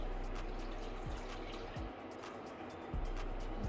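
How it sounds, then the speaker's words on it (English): Milk pouring into a pot on the stove for a Biscoff eggnog, a steady soft liquid stream close by, faint and continuous for several seconds. "I'm going to pour in our milk."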